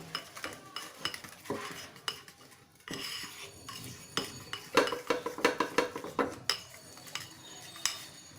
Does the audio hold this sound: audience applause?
no